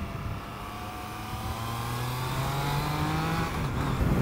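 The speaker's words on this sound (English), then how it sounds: "this is using the 660cc triple engine from the Old Street Triple S, and it's a very nice engine." Triumph Trident 660cc three-cylinder motorcycle engine from a 2021 model, riding with a steady rising drone and a slowly climbing pitch under wind noise, moderately loud and continuous with no talking.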